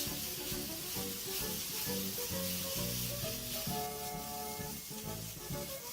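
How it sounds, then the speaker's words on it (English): Shrimp frying in a pan as the pan is tossed, a soft continuous sizzle and hiss sitting low beneath louder background music throughout, with no talk. "allow your shrimp to sit in there for anywhere between 3 to 4 minutes. Of course, continuing to toss your pan"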